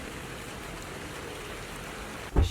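Steady rain falling outside, a soft even hiss of drops on surfaces throughout, with a brief louder knock or thump near the end and no talk.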